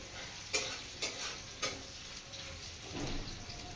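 Onions frying in a pan with black cumin seeds, a steady soft sizzle running throughout with a few brief stirring scrapes near the start, close and moderately quiet.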